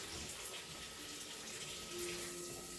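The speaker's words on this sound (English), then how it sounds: "I'm just going to fill up my bowl." Hot water runs steadily from a kitchen tap into a bowl, a continuous broadband hiss and splash that holds even for a few seconds, close and fairly quiet, with no talking.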